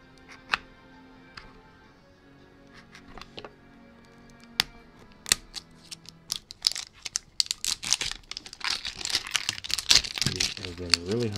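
Pokemon card pack wrappers torn and crinkled open by hand during a five-pack Pokeball card break, a slow pull that builds into dense crinkling and tearing bursts, with scattered clicks and taps early on.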